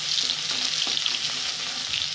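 Onion and crushed garlic frying in a pan, a steady bright sizzle with faint stirring scrapes, close and continuous with no voices.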